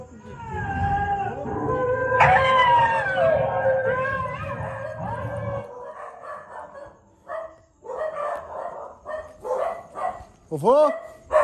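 A person imitates a werewolf howl with a long, wavering vocal cry over a low rumble, then shorter howl-like yelps and voices follow.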